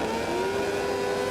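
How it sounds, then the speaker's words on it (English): Supersport racing motorcycles rev together at a race start at Laguna Seca, a loud sustained engine roar with a steady rising tone and no voices over it. "Revs are up, and we're away."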